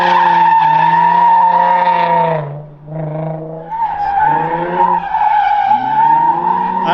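Nissan 350Z drift car sliding at Apple Valley Speedway, loud sustained tire squeal with a steady pitched whine, briefly dipping before resuming, heard close with engine noise underneath.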